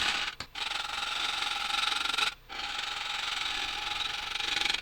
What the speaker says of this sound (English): the tool I'm using here is my 13mm or 1/2 inch or 3/8 ball gouge with a 50-degree bevel